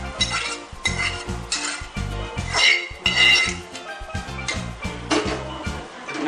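A spoon stirs pav bhaji vegetables in a metal pan, scraping and clinking in repeated strokes with a light sizzle underneath, close and loud, no talk.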